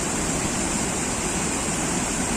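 A flooded river in full spate rushes past as a steady, dense roar of water, loud and unbroken throughout, with no voices.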